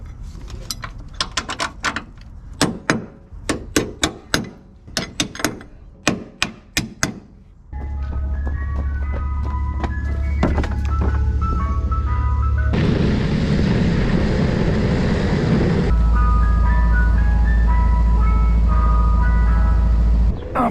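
An ice cream truck plays its jingle on a hot, humid summer day: a string of sharp mechanical clicks comes first, then a loud, steady chiming melody rings out close by and carries on without pause.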